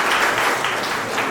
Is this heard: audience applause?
yes